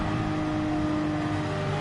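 A race car engine in GT Sport drones loud and steady, a sustained tonal roar with no breaks or speech over it.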